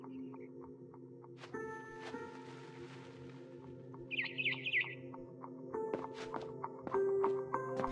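A barn swallow chirps outside a window in the video game What Remains of Edith Finch: a short, faint cluster of chirps midway, among quiet taps and footstep-like knocks over a low hum.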